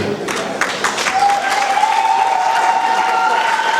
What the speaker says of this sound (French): Après son allocution applaudie par les participants présents dans la salle